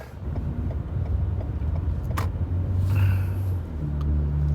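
A car on a test drive from a Lexus dealership toward its service center, giving a steady close interior road rumble and engine drone with a brief higher burst partway through and no talk.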